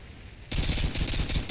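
AK rifle fire in the Modern Warfare 2 video game, a loud sustained burst of rapid automatic shots erupting suddenly after a quiet moment and running to the end.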